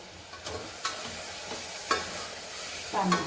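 Potatoes and a spoonful of curd are stirred in a pan. A spoon scrapes the pan in distinct strokes about once a second over a low, steady sizzle.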